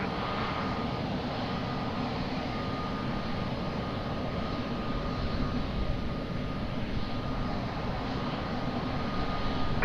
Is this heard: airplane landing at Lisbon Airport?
yes